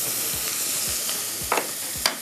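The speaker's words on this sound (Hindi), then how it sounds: "थोड़ा हल्का लहसुन को हम फ्राई करेंगे इसके साथ" Garlic frying in a pan alongside chicken, tomato, onion and mushroom, a loud continuous sizzle with a few clinks and scrapes of stirring.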